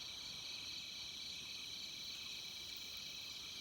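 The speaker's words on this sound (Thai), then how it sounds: "เสียงกบเสียงเขียดมันห้องในนอง" Steady nighttime chorus of calling frogs and insects from a rice field pond after harvest, a dense continuous high-pitched trilling drone that holds evenly throughout with no voices.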